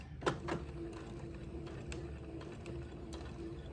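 A sewing machine runs a straight stitch to join entredot to a baby bonnet, making a quiet, steady mechanical purr with a faint hum and scattered soft clicks, close by.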